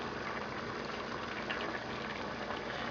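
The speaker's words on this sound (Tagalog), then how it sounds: "isi-simmer muna natin hanggang sa lumambot yung ibang ingredients" A pot of dinuguan made with pork offal simmers, a continuous dense bubbling and gurgling close by that stays steady throughout, with no talking.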